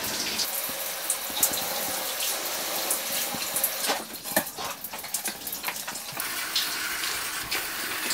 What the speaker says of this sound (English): I can get it rinsed fairly well in some places with this.